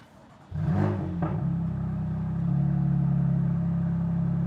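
A BMW M2 CS engine with an Akrapovic exhaust, valves open, starts up and settles into a deep, loud, rumbling idle with a steady low growl, close by and alone.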